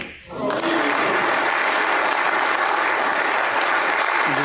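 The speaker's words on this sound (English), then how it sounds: "the crowd appreciating the skill that Zhang Anda is showing here" A snooker crowd breaks into sustained, full applause for Zhang Anda's century break against Ronnie O'Sullivan at the 2023 English Open, steady loud clapping from the hall after a brief quiet start.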